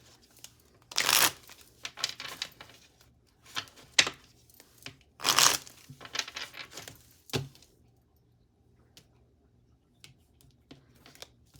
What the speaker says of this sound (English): Wow, I'm just trying to shuffle.